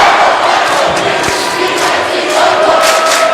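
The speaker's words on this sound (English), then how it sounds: "you can hear the crowd in the background" A crowd at a high school ice hockey championship game in Mennen Arena roars and cheers loudly and continuously, with shouts rising and falling across the arena.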